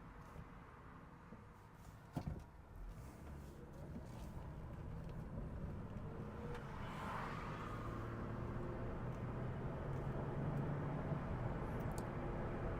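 A Honda Odyssey minivan is driven on the road, with steady engine and road noise building gradually and a single thump early on, no voices.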